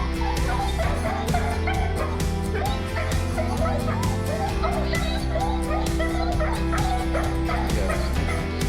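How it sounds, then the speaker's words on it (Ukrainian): A dog whimpers and yips repeatedly in high, plaintive cries while greeting a soldier returning home, over a low steady background hum. "Цей песик просто не може перестати плакати"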